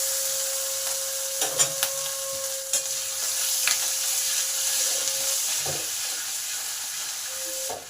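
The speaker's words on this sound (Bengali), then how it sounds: "হিং আর কালো জিরেটা ভাজা হয়ে গেলে এবার" Nigella seeds and asafoetida crackle in hot oil for a green-pea paratha filling; a steady sizzle runs under scattered spoon scrapes and taps of stirring.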